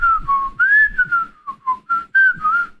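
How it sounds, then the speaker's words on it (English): A person whistles a short, wavering melodic phrase of about ten notes that slide up and down, close and clear, with faint breathy noise underneath. "I never heard you whistle like that."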